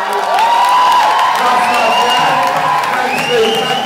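A comedy club crowd cheers and whoops loudly and continuously, with scattered applause and raised voices blending into one sustained roar throughout.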